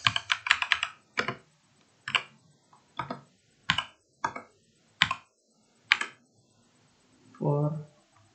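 Keys clatter on a computer keyboard, first in a rapid burst, then as separate presses spaced about a second apart, close and crisp, followed by a brief murmur of voice.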